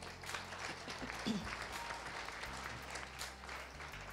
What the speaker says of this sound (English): please help me clap for these people